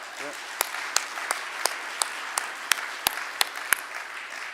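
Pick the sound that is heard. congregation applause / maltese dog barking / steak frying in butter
congregation applause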